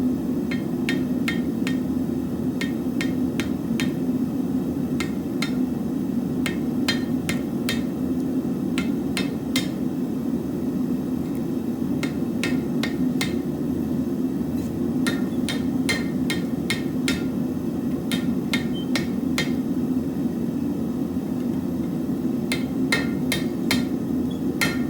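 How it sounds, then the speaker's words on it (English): Hot steel being hammered on the horn of an anvil beside a propane forge built from scraps, ringing metallic strikes in quick bursts of several blows separated by short pauses, loud and close over a steady roar from the forge. "go to the horn of the anvil, hammer it out to where it just kind of flares"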